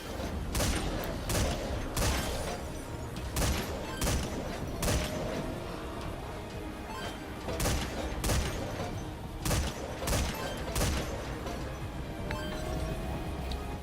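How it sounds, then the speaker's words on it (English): Mortar fire in the video game Metal Gear Survive: a steady series of sharp, evenly spaced blasts, roughly a dozen across the stretch, over a constant low rumble of background noise. "God, those mortars are great."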